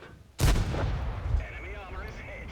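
A tank cannon fires in World of Tanks, a single loud, heavy boom that rolls into a rumbling tail and fades over a couple of seconds, with faint engine hum and clatter beneath.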